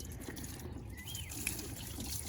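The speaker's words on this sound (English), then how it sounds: "Just pour the water on there" Water poured over the coolant-covered engine of a 2016 Charger R/T 5.7, a brief close splashing trickle over a steady background hiss, with no talking.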